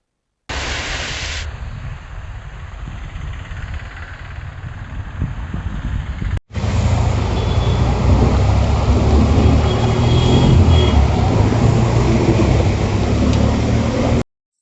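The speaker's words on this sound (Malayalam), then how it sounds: "രണ്ടരയോടെയാണ് ശക്തമായ ഇടിയോടുകൂടി മഴ തുടങ്ങിയത്" Heavy monsoon-season rain pours steadily in a dense, loud roar over hilly country in Kerala, with thunder rumbling through it; no voices.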